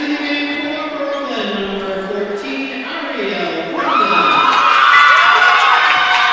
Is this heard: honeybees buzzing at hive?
no